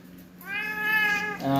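A hungry cat waiting for its meal of wet food mixed with dry kibble gives a drawn-out, close meow, and a second meow starts right after it.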